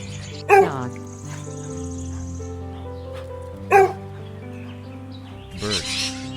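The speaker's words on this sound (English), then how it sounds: "Dog." A dog barks three times, two sharp single barks a few seconds apart and a softer, rougher one at the end, alone against a quiet background.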